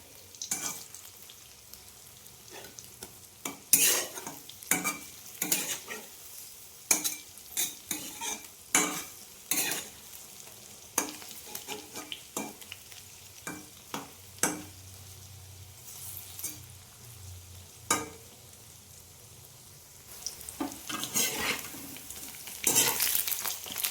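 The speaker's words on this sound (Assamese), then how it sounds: "এইখিনি ভাজি আছোঁ বাৰু।" Banana flower pakoras sizzle in hot oil while a spoon or ladle repeatedly stirs and scrapes the pan, giving irregular clinks and scrapes over a soft, constant frying hiss; no one speaks.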